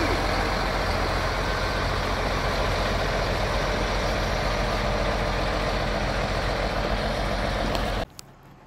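A Caterpillar 336 excavator idles outdoors with a deep, steady diesel rumble, loud and continuous for about eight seconds before cutting off abruptly, with no talk.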